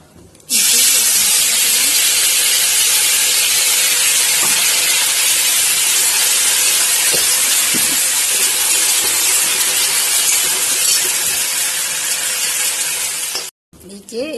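Ginger, chili and spices sizzle loudly in hot oil in a pan while a curry is cooked. The hiss is close and continuous for about thirteen seconds, then cuts off abruptly near the end. No talking.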